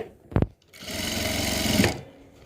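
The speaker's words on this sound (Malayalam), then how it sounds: "ഇതിങ്ങനെ ബാക്ക് നെക്ക് തയ്ച്ചെടുത്തിട്ട് ഞാനിപ്പോൾ ജസ്റ്റ് ഒന്ന് വെറുതെ നിങ്ങളെ കാണിക്കാൻ വേണ്ടി അടിച്ചെടുക്കുക" A sewing machine runs in one steady continuous burst while stitching the back neck of a blouse, close and moderately loud, preceded by a brief mechanical clack.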